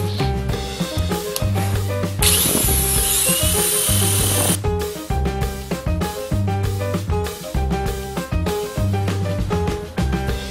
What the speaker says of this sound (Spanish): una mecha de 22 milímetros que me va a servir para las herramientas más grandes